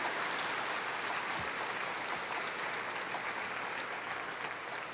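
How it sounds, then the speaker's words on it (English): Steady, dense crowd applause at a State House rally, a continuous wash of clapping heard alone without talk. "So let's give her a round of applause."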